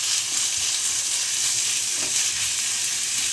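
Minced pork with carrots and potatoes sizzles steadily in a pan, a dense continuous frying hiss with faint scrapes of stirring beneath it, close and alone without voices.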